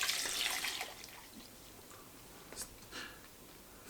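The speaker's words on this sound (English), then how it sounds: "Let's pour it into this collector's cup and see exactly how much milk it makes." Freshly made almond milk pouring into a collector cup, a soft splashing rush at the start that tapers into quiet trickles and a few faint drips, close and gentle.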